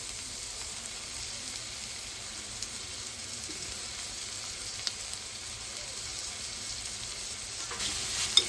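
Tomatoes frying in a pan with a little salt give a steady, faint sizzle that carries on evenly throughout, with a few soft clicks and a slightly louder scrape near the end.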